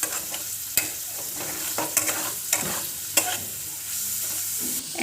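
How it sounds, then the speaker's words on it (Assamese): Onions frying in oil while being stirred toward golden brown: a close, continuous sizzle broken by repeated scraping and spatula knocks at an irregular rhythm. "আমি গল্ডেন ব্ৰাউন হোৱালৈকে পিঁয়াজখিনি ভাজি ল'ম।"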